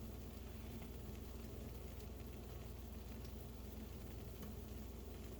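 Eggs fry on a stovetop with a faint, even sizzle that holds steady throughout, heard from a distance over a low background hum.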